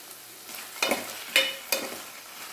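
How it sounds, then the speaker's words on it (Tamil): Vegetables, including brinjal, being sautéed in a pan for sambar: a soft steady sizzle with three distinct scraping stirs of a spatula, fairly quiet and close. "இதை நல்லா ஒரு ஒரு முப்பது செகண்டுக்கு வந்து நல்லா வதங்கட்டும்"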